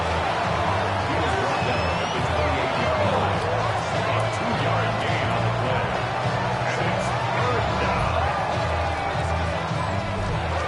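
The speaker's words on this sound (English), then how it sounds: "the crowd getting into it as we come up on a big 3rd down" Stadium crowd in a Madden NFL video game, Browns versus Ravens, swelling into a continuous loud roar ahead of a big third down, with a low rhythmic thumping pulse beneath the cheering throughout.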